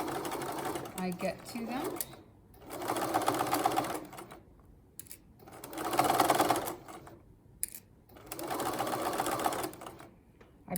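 A sewing machine runs in three separate loud bursts of rapid mechanical stitching, close by, with quiet pauses between, while a person speaks briefly during the gaps.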